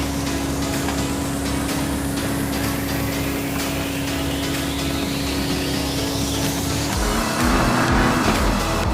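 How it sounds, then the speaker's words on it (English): BMW M2 CS engine in the racing game Car Simulator 2, a steady drone with a rising pitch as the car accelerates, then a louder, rougher surge near the end, with no voices. "Let's drive back to the garage."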